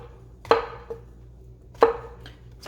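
Knife slicing through a butternut squash on a cutting board, three sharp chopping thuds spaced over a second apart, with a lighter tap between them, close and clear with no talk.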